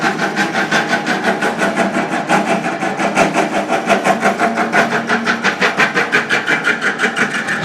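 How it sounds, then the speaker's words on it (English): A small milling machine runs steadily while taking a light cut during a Ferguson TEA tractor engine rebuild, its loose cover and base rattling in a fast, continuous buzzing chatter, loud and close with no talk. "The noise you can hear is this bloody thing rattling on the top, the cover, and the base for this little milling machine."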